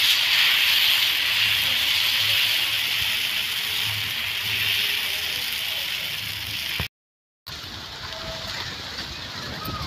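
Adai batter hits a hot, oiled dosa griddle, setting off a steady, close sizzling hiss that fades slightly, cuts out briefly, then resumes, with a faint voice in the background.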